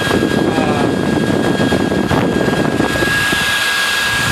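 A salvaged computer-server electric ducted fan spun a little past half throttle, giving a loud, steady jet-like roar with a high whine that eases slightly toward the end.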